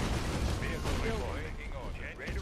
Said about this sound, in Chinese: 你看这个大炮一放直接瞄准对方的大炮